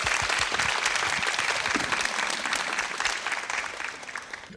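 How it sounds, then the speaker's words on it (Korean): Steady audience applause fills a live public broadcast in a studio, dense clapping from a sizeable crowd that holds strong throughout before tapering slightly at the end. "네, 박수 주시죠."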